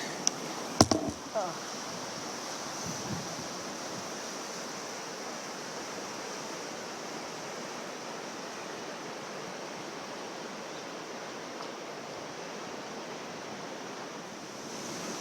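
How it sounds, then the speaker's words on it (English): The Colorado River flows at its confluence with Havasupai Creek in the Grand Canyon, a broad steady rushing wash of water, fairly soft, after a couple of brief knocks at the start. "The confluence of the Havasupai Creek and the Colorado River."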